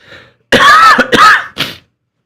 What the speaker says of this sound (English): And again, I'm sorry if I'm coughing.